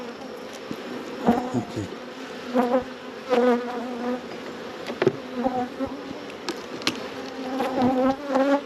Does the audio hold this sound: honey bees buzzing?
yes